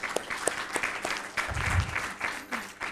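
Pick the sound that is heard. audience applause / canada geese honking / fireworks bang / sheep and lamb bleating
audience applause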